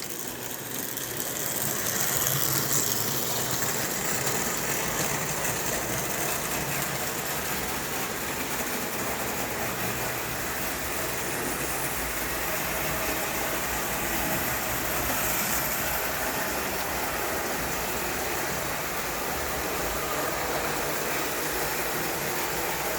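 Two model train engines running around a track, a continuous steady motor whir and rolling rumble with faint rhythmic clicking, close and unchanging throughout.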